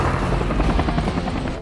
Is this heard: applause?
no